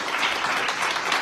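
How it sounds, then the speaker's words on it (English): A GOP women's club forum audience applauds the candidates on stage in a short, steady burst of many hands clapping together. "please give it a good round of applause for our candidates up here."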